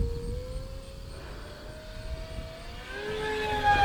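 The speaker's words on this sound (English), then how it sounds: "Let's crank that throttle." A Durafly Me-163b RC model plane at full throttle gives off a steady whine that slowly rises in pitch, with a harsher, louder tone building near the end.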